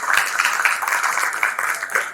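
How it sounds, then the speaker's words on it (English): Audience applause after a retail panel discussion in the North East, a steady sustained patter of many hands clapping, fairly close and filling the whole stretch before tapering at the end. "I want a big round of applause for the esteemed panel."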